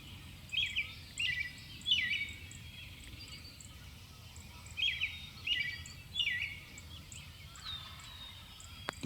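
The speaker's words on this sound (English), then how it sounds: "He's really gobbling hard." A wild turkey gobbles repeatedly from a distance, several rattling bursts spaced a couple of seconds apart over quiet outdoor background.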